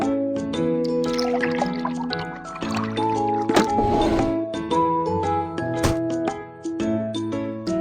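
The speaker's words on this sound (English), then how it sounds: "Pour liquid into the correct tank." Liquid is poured into a car's tank in a children's auto repair shop game, with dripping, filling water sounds layered over cheerful tonal background music.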